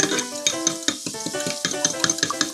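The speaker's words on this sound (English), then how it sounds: "excuse me while I beat my eggs" Eggs being beaten by hand in a bowl: a steady run of quick, close clattering strokes, bright and busy throughout, with no voices.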